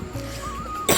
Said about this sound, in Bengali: মাঝে মাঝে তো একটু কাশি হয়